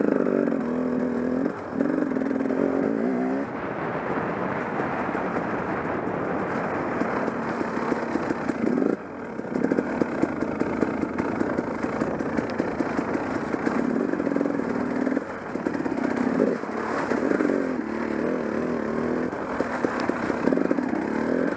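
A motorcycle crosses a muddy stream, its engine running steadily and loudly at close range throughout, with a constant rumbling drone, small rises and dips in power, and clattering splashes.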